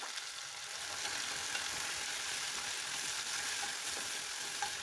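Omena fish and tomatoes fry in a pan, giving a steady, soft hiss of sizzling with faint crackles throughout and no talking.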